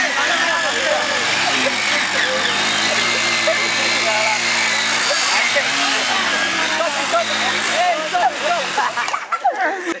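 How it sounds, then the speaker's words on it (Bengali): Passion Pro Plus and Honda motorcycle engines running together during a bike tug-of-war challenge, a steady close engine drone with shouting voices over it throughout, dropping away near the end. "স্টার্ট হয়ে গেছে গাড়িগুলো।"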